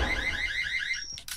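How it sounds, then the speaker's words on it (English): An alarm gadget in the VR shooter Breachers goes off with a loud, rapidly warbling electronic siren that runs steadily, then cuts out into a short buzz and a click. "Oh, my alarm's actually doing something."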